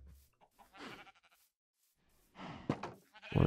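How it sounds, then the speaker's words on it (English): Sheep bleating in Minecraft while the flock is being sheared for wool, a few soft wavering baa calls close by, interspersed with quiet clicks and brief pauses. "I'm going to just trim up these sheep."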